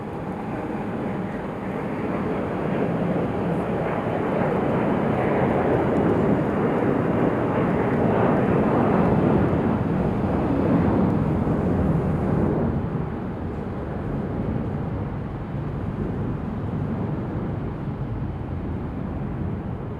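A United airliner departing for Dulles gives a sustained, broad engine rumble that swells in the middle and then eases slightly, heard alone without voices.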